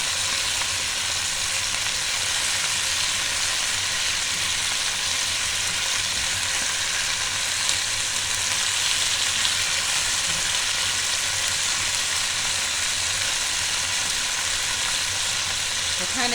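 Chicken pieces for adobo browning in a pan, a steady, dense sizzle and crackle that holds at an even loudness throughout, close by with no talking.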